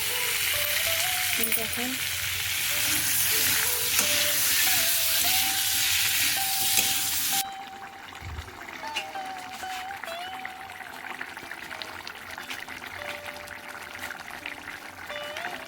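Prawns frying in a pan hiss and sizzle loudly for several seconds, then the sizzle drops to a quieter crackle with light stirring scrapes, and a voice briefly speaks over it.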